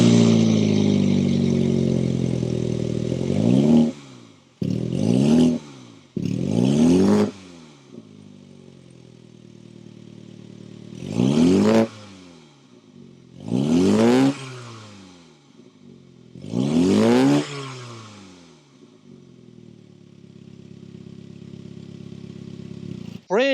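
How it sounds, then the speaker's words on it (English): Exhaust of a 2022 Mini Cooper S with the twin-power turbo engine, revved in a run of sharp blips that rise and fall, with steady idle rumble between them. Loud and close, no talk. "Let's go inside this twin power turbo and hear that exhaust note."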